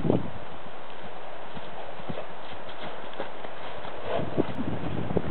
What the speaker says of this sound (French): Godino qui essaie de galoper.